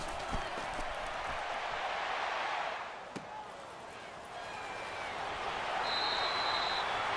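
Stadium crowd in Madden NFL on PS4 at the Super Bowl between the Cleveland Browns and Dallas Cowboys, a steady broad roar of cheering that swells near the end, with a commentator's voice over it.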